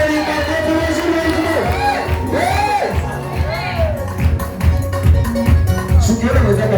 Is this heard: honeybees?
no